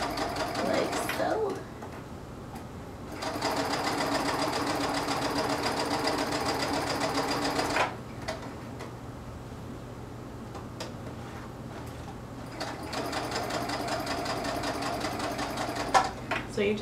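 Sewing machine running a straight stitch around a tulle skirt casing, in rapid rhythmic bursts of a few seconds each separated by pauses, close and clear, with a voice talking quietly in between.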